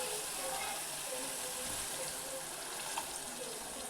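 Water pours steadily into a pan of gram flour curry whose masala has cooked until the oil separated, a continuous close splashing rush lasting several seconds with no speech.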